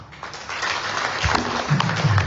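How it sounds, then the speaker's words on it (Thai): Audience applause welcoming a guest speaker onto the stage at a talk, a steady, dense crowd clapping that swells slightly and holds throughout, with no voices over it. "ขอเสียงปรบมือต้อนรับ"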